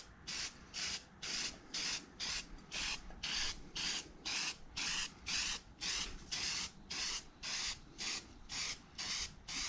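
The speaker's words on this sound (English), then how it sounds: "this is like the first aerosol paint that I have ever used that lays down like butter" Aerosol spray paint hisses onto SLP intake runners during a restoration, in about twenty short, even bursts with brief pauses between them, close and steady with no talking.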